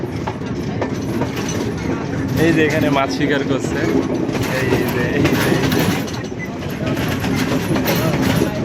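A train rumbles steadily along coastal rails in Sri Lanka, Mount Lavinia to Mirissa, with a continuous rolling clatter, while someone talks over it throughout.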